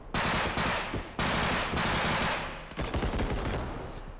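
Rapid bursts of automatic gunfire from the realistic shooter game Bodycam, several loud, dense volleys close by with brief gaps between them and no talking.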